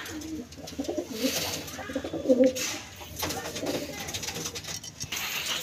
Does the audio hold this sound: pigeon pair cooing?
yes